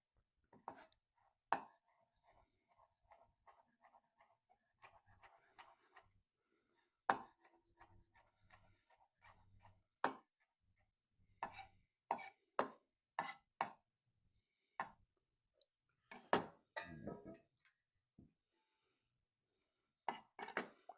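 A knife chops fresh cilantro on a cutting board in quiet, close, irregular bursts of crisp taps, some single strikes and some quick runs, separated by brief silences.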